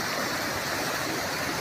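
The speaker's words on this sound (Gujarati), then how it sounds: "અને આ ગામની પાછળ જ નદી છે જોરદાર" A river rushes just behind Kotharia village, swollen with a heavy inflow of water, a steady faint broadband roar of flowing water with no other sounds over it.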